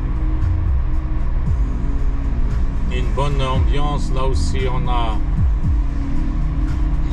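Steady, loud cabin drone and road rumble from a Renault Mégane coupé cabriolet on the move, running throughout under someone speaking.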